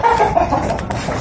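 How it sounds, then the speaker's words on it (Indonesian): Chickens in a village yard cluck steadily up close, a dense, overlapping run of short, throaty calls with no talking. "Ya, ini ayam-ayamnya."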